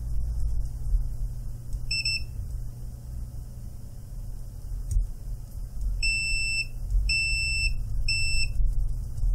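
A Major Tech MT25 multimeter set to continuity mode gives a single short electronic beep. After a pause, three more clipped beeps follow in quick succession over a low background hum.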